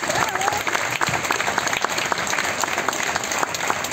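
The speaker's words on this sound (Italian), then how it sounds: "Tutto per voi questo applauso" An audience claps warmly and steadily after a philharmonic band finishes a piece, with a voice speaking over the applause.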